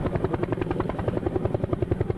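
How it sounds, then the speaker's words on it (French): A helicopter flies nearby in a French drama series, its rotor giving a loud, steady rhythmic thudding chop that continues unbroken throughout, with no speech. "Commandant, l'hélicoptère du général est droit devant."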